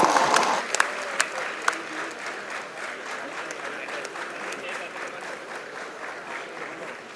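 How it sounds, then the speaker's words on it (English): Audience at a university hackathon prize ceremony applauding a winning team, a dense steady clapping from a crowd in a hall, loudest at first and then holding, with a few sharper claps standing out. "a big round of applause for the team Downhill Decoders for securing the"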